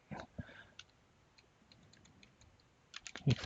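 Typing on a computer keyboard while entering data in Excel: quiet, scattered key clicks in short bursts near the start and a denser flurry at the end, with near-silence between them.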